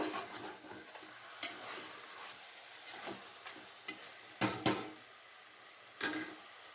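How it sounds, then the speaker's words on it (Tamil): Chicken sizzles in a pan while a utensil stirs and scrapes through it in several irregular strokes, with no one talking. "சிக்கனை நல்லா கலந்துக்கிட்டுக்குங்க"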